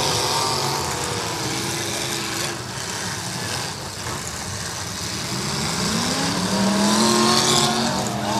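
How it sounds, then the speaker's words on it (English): A 1966 Chrysler New Yorker with almost no aftermarket parts grinds on in a demolition derby at the Chino Challenge, its engine drone and scraping metal continuous and fairly loud amid crowd and arena noise. "That 66 New Yorker still going."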